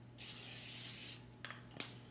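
A single long hiss of cooking spray lasting about a second, followed by two brief quieter bumps, close and otherwise quiet.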